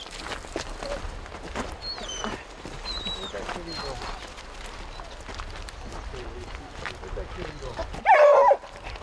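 Hunting dogs tracking a cougar on Vancouver Island, British Columbia, move through the brush with running steps and rustling, then give one loud, close bark near the end, while people murmur in the background.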